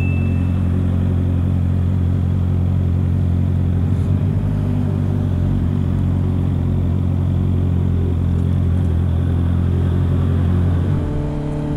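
A Honda CB650R inline-four motorcycle on a night ride, its engine droning loud and steady with a smooth rumble that holds throughout and no talk over it.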